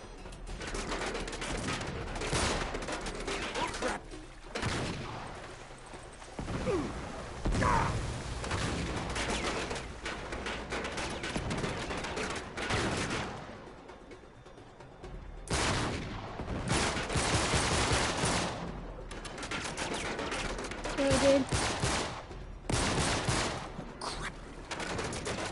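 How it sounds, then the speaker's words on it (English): Gunfire from the video game Uncharted 3: Drake's Deception comes in loud, dense bursts of rapid shots and volleys, broken by brief quieter gaps, over a constant in-game din. "All these gunshots."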